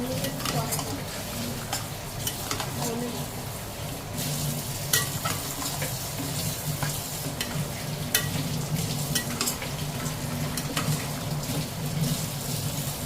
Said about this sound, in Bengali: এবার আস্তে আস্তে সব কটাকে কষতে দেবো আলু মটন একসঙ্গে কষাবো সুন্দর করে